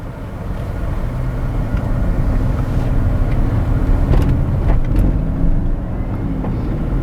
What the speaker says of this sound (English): all you're getting is intake noise, and you hear all the right kind of noises from this thing